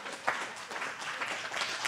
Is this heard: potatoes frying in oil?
no